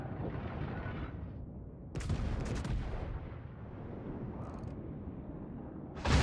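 Warship guns firing in the World of Warships naval battle game: booming, rumbling artillery blasts with a sustained roar of naval gunfire, a sharp burst midway and another loud boom at the end.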